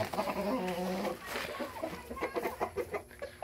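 A purebred Dekalb Brown hen on a small farm clucks in a quick run of close, repeated calls, with other chicken sounds and brief background noise around it.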